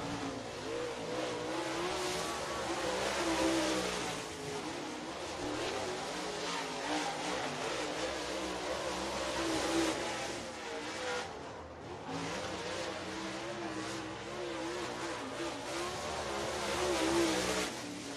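Race cars lapping Duck River Raceway Park in Lewisburg, Tennessee, with a loud, continuous engine roar that swells and eases as the cars pass. No talking is heard.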